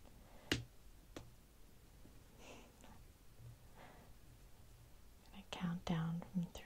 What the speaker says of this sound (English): And snap my fingers.